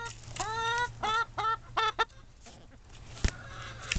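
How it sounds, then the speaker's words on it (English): Several hungry backyard chickens squabbling over grub worms and crickets, with a burst of loud, close clucks and squawks in quick succession, followed by quieter scratching and pecking and a sharp knock near the end. "you want to see the little ravenous chickens?"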